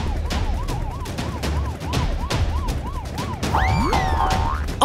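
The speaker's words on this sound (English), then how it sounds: "they heard the sound of police sirens" Wailing police sirens in a children's cartoon rise and fall in a rapid repeating cycle, then a second siren sweeps in with a different pitch, loud and close.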